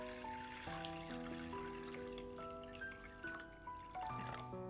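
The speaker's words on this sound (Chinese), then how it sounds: "下面小锅中倒入适量的清水" Clean water pouring into a small pot, a steady trickle whose pitch shifts as the pot fills, close and continuous with no voices.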